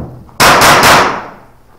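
A single sharp gunshot at a zombie shooters match cracks loud and close, followed by a short decaying echo before quiet returns.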